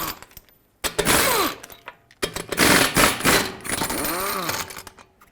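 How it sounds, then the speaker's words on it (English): Loud bursts of an impact tool with a 22mm socket removing lug nuts from a Chevy Equinox front wheel, hammering and whirring in several rising and falling runs close to the microphone. "With a 22mm socket, remove all 5 lug nuts and then pull the wheel off."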